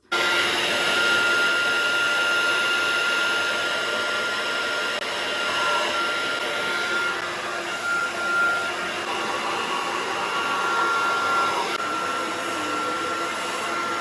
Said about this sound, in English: got my blow dryer here. I'm gonna put it on the hottest heat and on the highest wind